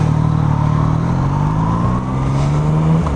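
A Yamaha MT-09 motorcycle engine drones loud and close while riding, a steady powerful hum with a slight rise in pitch and no voices.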